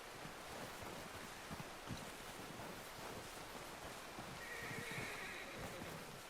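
Horse in the video game Red Dead Redemption 2 gives a faint whinny amid soft clip-clop, wind and surf-like ambience, with the horse sound coming near the end.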